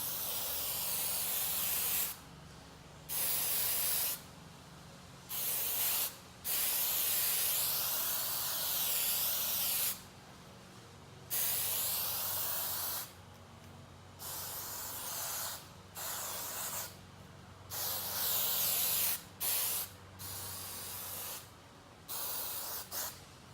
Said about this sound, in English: Now that I've sprayed all of this material, as you can see, it's pretty evenly.